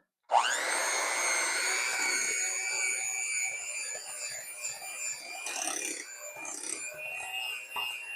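Electric hand mixer beating softened salted butter into snickerdoodle cookie dough, a steady close whirring drone that starts abruptly and runs continuously, its pitch wavering slightly as the beaters work through the thick mixture.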